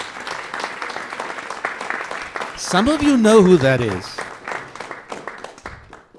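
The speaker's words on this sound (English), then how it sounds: "would you please give them a big round of applause?" Audience applause at a jazz celebration event, a broad crackling wash of clapping that runs the whole way, with someone speaking over it and a brief pitched vocal swell in the middle.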